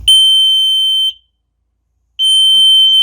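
An Arduino landslide early warning system's buzzer, set off by its vibration sensor, sounds a loud, steady high-pitched electronic tone in two bursts separated by about a second of silence.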